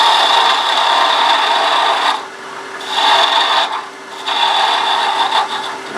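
A woodturning tool takes off bulk wood on a lathe while turning a chess king, a loud rasping scrape in long passes with brief quieter pauses between cuts.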